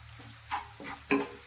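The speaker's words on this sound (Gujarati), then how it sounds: "બધી જ વસ્તુને આપણે 1 મિનિટ માટે સાતરીશું." Onion, ginger, garlic and finely chopped green chillies sauté in a pan for bajra khichdi. Light sizzling runs under a few short scraping stirs, heard up close.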